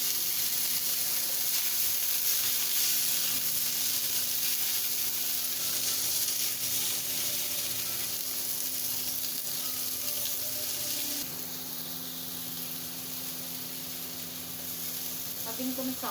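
Seekh kebabs sizzling and frying in a pan, a steady close hiss of hot oil that drops slightly as the pieces are turned over partway through, with no talking over it.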